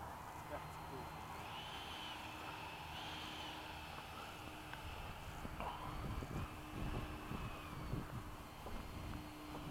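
F-15 fighter jet at night with afterburners lit, a steady roaring rumble with a high whine above it, building in force toward the end, while people talk nearby.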